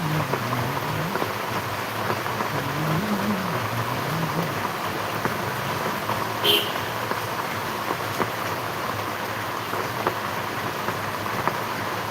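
Heavy rain pours down steadily in a dense, even hiss, with a faint low rumble underneath throughout.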